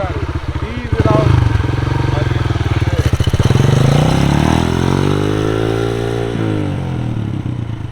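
A Honda CRF150 dirt bike engine revs up close as the clutch is eased out, its pitch climbing, holding and then settling over a steady, loud run, while people talk over it.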